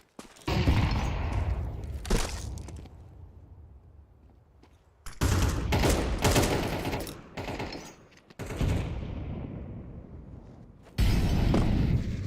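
In a Counter-Strike esports match, bursts of game gunfire and grenade blasts arrive in loud clusters separated by brief quiet gaps.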